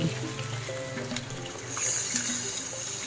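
Water pours steadily into a cooking pot for pork bulalo, a soft close splashing and trickling with a slight rise in brightness midway, with no talking.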